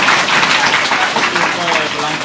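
Schoolchildren at a high school education ceremony clap together in a dense, steady wash of applause that holds evenly throughout, close and fairly loud, with no voices standing out.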